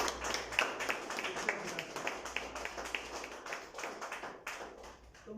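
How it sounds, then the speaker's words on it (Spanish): A church congregation at a Thursday general service gives a faint, distant round of rhythmic clapping, steady claps repeating over several seconds with low voices underneath. "Dale un fuerte aplauso al Señor"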